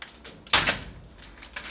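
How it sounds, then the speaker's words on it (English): A door is pulled open with a sharp clunk and rattle of the latch, followed by a fainter scrape and a couple of light knocks in a quiet room. "So let's go ahead and pull the door open."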